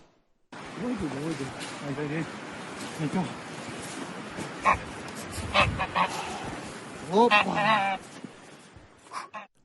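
Geese in Kabadüz, Ordu, Turkey honk repeatedly in short nasal bursts, some close and loud, mixed with background noise and occasional voices.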